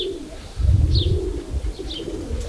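Nikolaev breed pigeons cooing close by, with low throaty coos repeating over a couple of seconds and a few higher chirps between them, alone with no talk.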